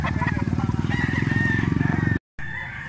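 A white Kelso stag rooster crows close and loud in a long, raspy call with a pulsing throaty texture, cut off abruptly, followed by a short resumption.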